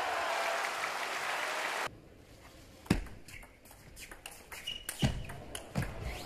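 Crowd at a table tennis match applauding after a rally, a dense burst of clapping for about two seconds that cuts off, followed by scattered ball taps and knocks in the hall.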